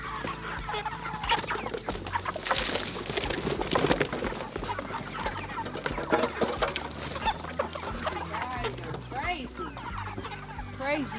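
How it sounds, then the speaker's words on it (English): Chickens cluck busily and continuously at a homestead where meat birds are raised, a dense overlapping chorus of nearby fowl with no talking. "Crazy chickens."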